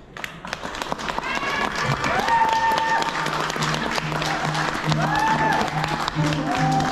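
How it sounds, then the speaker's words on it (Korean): Sustained applause from wedding guests greets the groom's entrance, a dense wash of clapping from a crowded hall that holds steady for several seconds, with a voice over a loudspeaker and some music-like tones mixed in. "일단 큰 박수로 부탁드리겠습니다."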